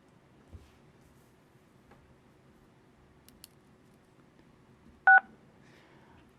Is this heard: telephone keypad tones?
yes